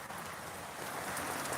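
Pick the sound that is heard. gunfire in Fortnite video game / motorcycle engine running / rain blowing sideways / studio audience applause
rain blowing sideways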